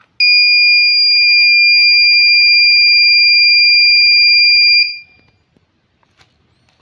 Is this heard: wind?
no